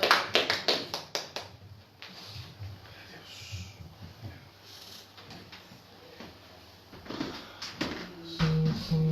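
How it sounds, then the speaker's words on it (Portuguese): Church congregation clapping in worship, a quick run of sharp close claps that thins into scattered taps and room noise, with a voice speaking near the end. "Vamos aplaudir a Jesus"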